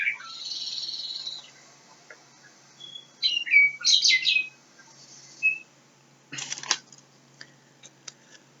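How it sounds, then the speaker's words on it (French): Bright whistled bird phrases in a quiet outdoor setting, consistent with a western meadowlark singing: a sustained high note, then a cluster of fluting slurred notes, a short call and a sharp burst, with faint chirps trailing off. "il entend la sturnelle, ce bel oiseau avec du jaune."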